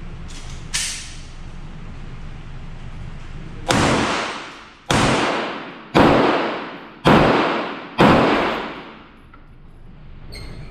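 Suppressed Honey Badger SD rifle chambered in 300 BLK firing six spaced shots outdoors, each a sharp, close, fairly loud crack with a short decaying tail, the last five coming in a steady rhythm about one second apart.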